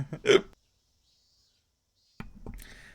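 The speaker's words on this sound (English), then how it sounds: "That was a hiccup, kind of." A single short hiccup at the start, followed by silence, then faint rustling and breathy noise.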